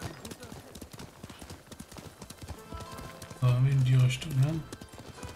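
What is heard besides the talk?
horse hooves clip-clopping, from the video game Ghost of Tsushima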